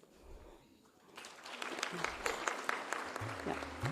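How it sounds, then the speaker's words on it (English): Applause for honored guests at the inaugural session of a sociology conference rises after a quiet start, turning into a full, steady clapping from a seated hall audience. "Let us extend a warm round of applause to all our honored guests."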